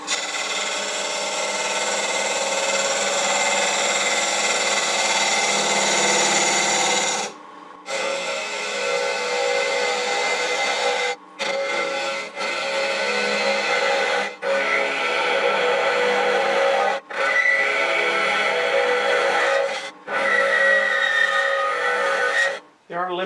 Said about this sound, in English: There are limitations using a spindle gouge for hollowing